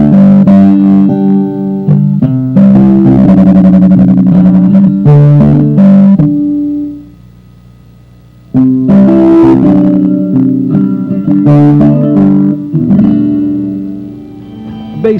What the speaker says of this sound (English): It also has a complete set of effects just for acoustic instruments, special 2x2 chorus, digital reverb, and a mic distance simulator